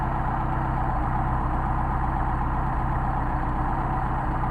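A Mercedes 190SL engine with Solex carburetors idles steadily up close, a constant low, even rumble with no change in speed and no talking.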